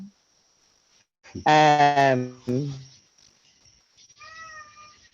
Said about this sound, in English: Seems like I hear the kitties.